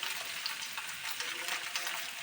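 Boiled, mashed potatoes fry in a pan with a soft, steady sizzle and a little stirring, heard close but fairly quiet with no voices.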